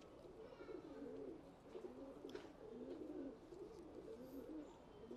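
A black dubaaz show pigeon hen coos in a steady run of low, rolling calls at close range, with faint background noise and no talk.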